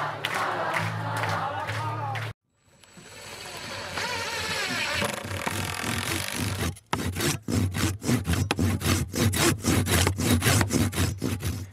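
Rhythmic back-and-forth strokes of a hand saw cutting through wood, close and steady, following a stretch of busy background noise.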